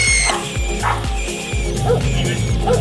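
Hunting dogs on a rat hunt give repeated short barks and yips in a close, busy scene, with a voice mixed in among the rustling activity.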